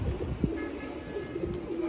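Imported UAE pigeons cooing at a loft in an open area of Nashik, with soft, low, repeated coos and a brief louder note among steady outdoor background noise.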